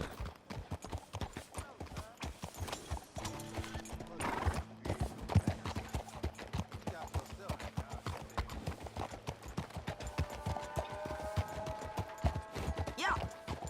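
Horse galloping in Red Dead Redemption 2, a fast steady clip-clop of hooves with a loud whinny partway through and mechanical tones later, quiet speech faintly underneath.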